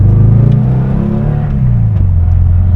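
A 1963 Porsche 356 Carrera 2 coupe's four-cam engine pulls hard under acceleration on back roads, a loud, steady drone with its pitch climbing smoothly, heard close from inside the car with no talk.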